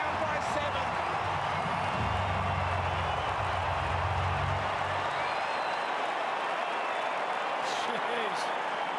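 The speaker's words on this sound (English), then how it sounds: "Crowd's gone mad." Stadium crowd roaring after a goal in the 2021 AFL Grand Final, a massive sustained wall of cheering and noise from far and wide, with a commentator's voice heard briefly underneath early on.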